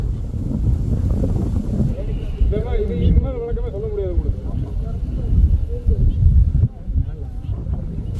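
Strong wind gusts across the rocky Rangamalai hill during a climb and roars against the microphone in a steady low rumble. People talk over it at times.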